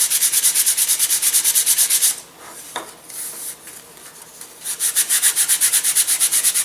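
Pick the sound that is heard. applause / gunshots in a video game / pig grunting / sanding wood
sanding wood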